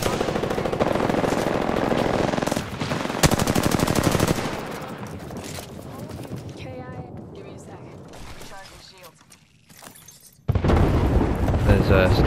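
Bursts of automatic gunfire and booming shots from an Apex Legends firefight, loud rapid volleys in the opening seconds, then quieter scattered fire before a heavy burst returns at the end, with players talking over it.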